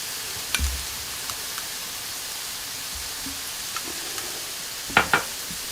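Greens with turmeric stirred in oil in a pan over low heat for an Armenian Persian herb stew, giving a steady soft sizzle with a few light scrapes and clacks of the spoon, near and alone.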